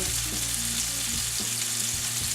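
Lamb meatballs browning over medium-low heat in a pan with olive oil and butter, giving a steady close sizzle and crackle of frying with no talking.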